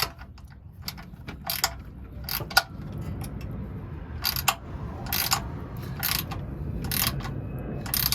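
A threaded insert is screwed in by hand with a ratcheting tool during a Bilstein 8100 install on a 5th Gen 4Runner, giving close bursts of quick clicks separated by short pauses.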